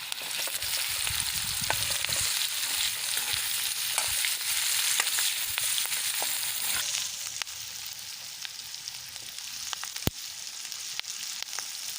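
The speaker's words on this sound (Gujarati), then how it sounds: "આપણી ડુંગળી આછા ગુલાબી રંગની થઈ જાય ત્યાં સુધી આપણે એને ચડવા દઈશું" Chopped large onions sauté in a pan over a wood-fired chulha for cashew curry. A continuous bright hiss of frying runs throughout, dotted with sharp utensil taps and crackles, with no talking.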